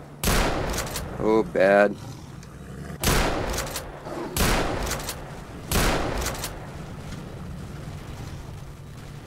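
Several loud, widely spaced shotgun blasts in the video game STALKER: Shadow of Chernobyl, each a sharp boom with a decaying tail, with a short spoken exclamation between the first shots.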